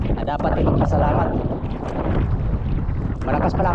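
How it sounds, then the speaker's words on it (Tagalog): Strong wind buffets the microphone in a steady, roaring rumble, with faint water and boat noise beneath it and no clear talk. "Malakas pala ang hangin dito banda."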